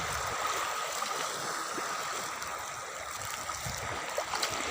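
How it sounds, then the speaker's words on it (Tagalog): Shallow sea water washing over a low-tide shore, a steady broadband wash and trickle of small waves lapping close by, continuous and fairly soft with no voices. "Ba't lumakas ang alon?"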